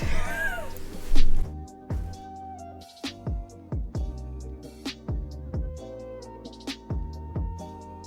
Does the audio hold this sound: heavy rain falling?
no